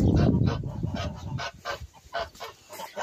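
Several chickens cluck close by in irregular bursts, with scratching and shuffling noises at the start.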